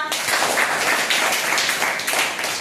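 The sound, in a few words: schoolchildren clapping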